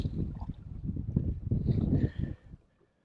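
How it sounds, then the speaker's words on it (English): Gusting wind buffets the microphone out on open water during a fishing trip by boat, a low rumbling roar that swells and fades for about two and a half seconds before cutting off. "Oh, that wind."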